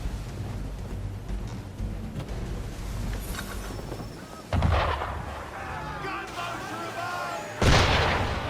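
Cannon fire from a ship in Assassin's Creed 3 booms in two heavy blasts several seconds apart over wind and sea ambience, with a voice talking between them.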